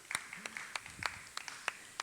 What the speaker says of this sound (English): Let's get a big round of applause going for Shoplifter